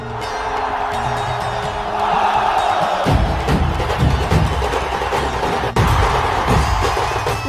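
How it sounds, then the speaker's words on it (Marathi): A large festival crowd cheers and roars at the Dahi Handi celebration, sustained and loud throughout, swelling louder midway, with whoops and shouts over a dense, rumbling mass of voices. "मग आपल्या गोविंदांचा जल्लोष."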